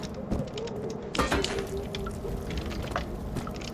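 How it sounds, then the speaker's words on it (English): Liquid drips and splashes in a dark dungeon of an Amnesia horror game custom story, scattered wet plops and trickles with a brief louder splash, over a low ambient drone. "it's dripping all over the joint"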